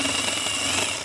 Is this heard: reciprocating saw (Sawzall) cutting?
yes